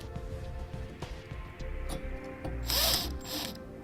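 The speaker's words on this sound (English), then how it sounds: "Use an 8mm socket to run those down." An 8mm socket ratchet driving self-tapping screws while a towed-vehicle wiring kit is installed, giving a close, rapid clicking of the pawl in short bursts.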